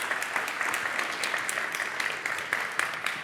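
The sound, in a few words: audience applause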